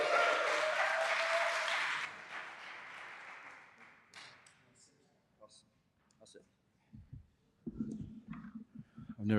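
An open mic night audience applauds in a brief burst of clapping that fades within a couple of seconds, followed by sparse clicks and a voice speaking.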